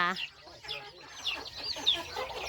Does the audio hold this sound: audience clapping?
no